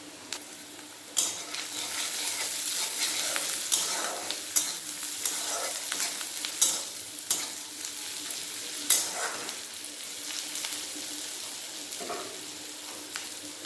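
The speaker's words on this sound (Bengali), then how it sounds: "পেঁয়াজ ভাজা হয়ে গেছে" Sliced onions fry in oil with a little salt for a fish roe jhuro, a steady sizzle under repeated sharp spatula scrapes and clinks against the pan, close and fairly loud.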